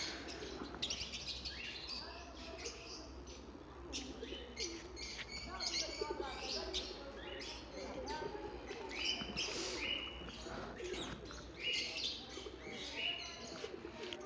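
Birds chirp and call repeatedly in a busy zoo, with soft pigeon coos and parrot calls mixed among the tweets against faint background noise.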